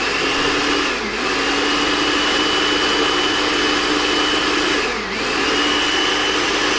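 A blender running at high speed purees chili ingredients, a steady loud whir with two brief dips in pitch as the contents shift, continuing alone without talk.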